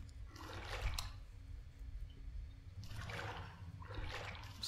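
Bath water runs and splashes in the video game Apartament 1406, soft trickling and sloshing that swells in a few bursts, faint and without talk.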